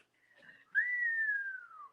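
A person whistles in imitation, a short rising note then a long, clear tone that slowly glides downward, close and alone with no talk.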